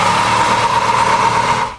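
Close, steady engine drone from a V6 Camaro of the 1998 to 2002 generation fitted with a Flowmaster bolt-on exhaust, a loud continuous hum heard alone that fades out at the end.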